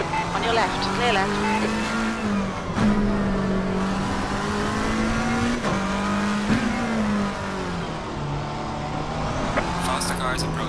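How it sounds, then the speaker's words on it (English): Race car engines at speed on the Barcelona circuit, a strong steady drone with shifting pitch and gear changes, fairly close. "Faster cars approaching."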